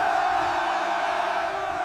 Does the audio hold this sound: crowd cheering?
yes